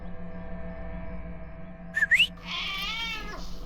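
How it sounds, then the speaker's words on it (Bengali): A cat gives a single drawn-out meow near the end, rising then wavering, heard alone over a steady low background hum after two short whistle-like chirps. "এই হলো সেই বিড়ালটা যে খুনিকে চেনে।"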